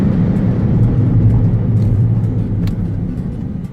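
A Daihatsu Move car accelerates with its power button engaged, a loud continuous low engine rumble heard from inside the cabin that eases slightly toward the end.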